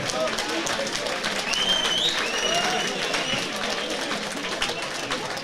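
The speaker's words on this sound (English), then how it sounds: "Let's give a massive round of applause to both Aaron and Ali." Crowd applause after an amateur boxing bout at a boxing academy home show, steady clapping and cheering filling the hall with whistles over the top.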